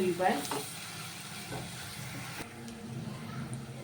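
Ginger and garlic frying in oil at the start of a fenugreek-leaf mutton curry. A quiet, close sizzle hisses steadily, with a couple of light clinks from a spoon early on.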